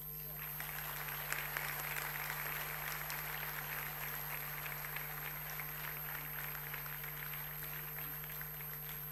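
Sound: audience clapping for children at school annual day

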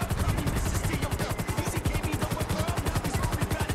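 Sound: helicopter in video game GTA V

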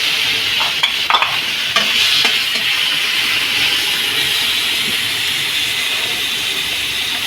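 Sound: sliced tomatoes added to a frying pan, sizzling

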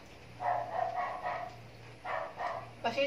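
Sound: dogs barking

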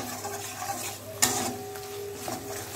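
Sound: sautéing spice paste with ginger paste in oil

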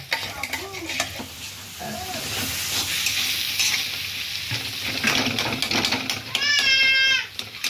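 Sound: potatoes frying and stirred in spice masala in pan

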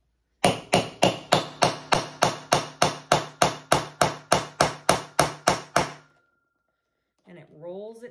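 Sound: hammering a tool to set a bag fitting

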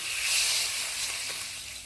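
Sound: stir-frying vegetables in hot pan

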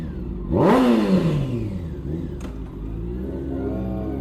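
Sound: motorcycle engine revving, Honda 600F or Yamaha FZ6

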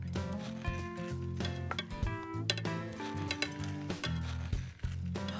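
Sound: bread stuffing being put back into a saute pan

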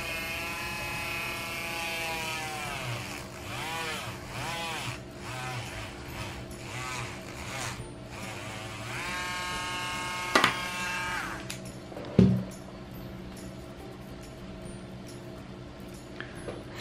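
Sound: small rotary sander-drill drilling a hole in epoxy resin

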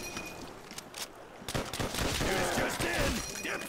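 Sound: gunfire shooting zombies in a Call of Duty custom zombies map video game

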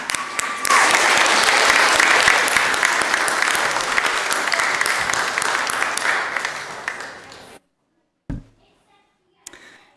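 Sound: congregation applause for the teachers

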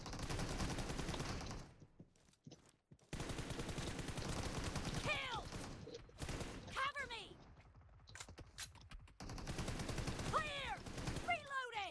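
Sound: gunfire in PUBG Mobile video game

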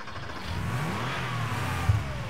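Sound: Warthog vehicle engine starting up in Arma 3 video game

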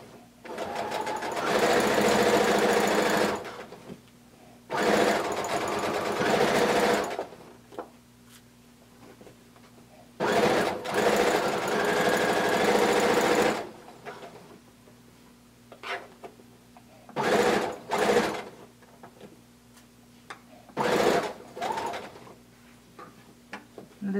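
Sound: sewing machine sewing a blanket coat seam

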